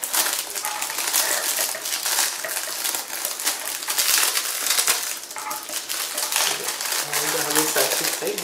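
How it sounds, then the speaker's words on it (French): Small plastic packets are torn open and crinkled close to the microphone, giving a steady crackling rustle with sharper snaps throughout, while someone talks over it. "je suis obligée d'ouvrir les petits sachets"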